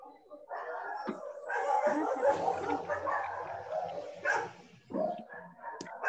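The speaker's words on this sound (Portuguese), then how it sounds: "Tem um cachorro aí, tá meio bravo." A dog barks repeatedly nearby during a fifth-grade Zoom class, sharp yips and bow-wow bursts in uneven clusters, clear and fairly loud over a quiet background.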